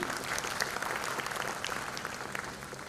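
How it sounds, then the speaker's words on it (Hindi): Audience applause at the Patrika KeyNote 2025 event in Bhopal, a steady wash of many hands clapping throughout, moderately loud and fairly even, with no voices over it. "इनके लिए जोरदार ताली बजनी चाहिए"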